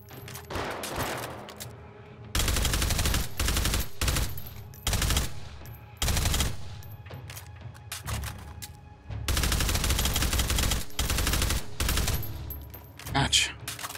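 Automatic gunfire in the VR video game Hot Dogs, Horseshoes & Hand Grenades: loud, repeated bursts of rapid shots of varying length, broken by brief pauses, with faint talk between bursts.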